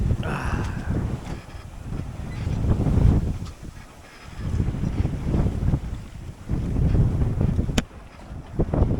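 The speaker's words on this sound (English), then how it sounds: "The wind's died down a bit now." Wind buffets a small sailboat at sea off the UK coast, surging and easing in heavy low rumbling gusts against the microphone, with faint water wash underneath and no talk.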